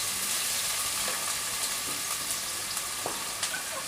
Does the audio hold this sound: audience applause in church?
no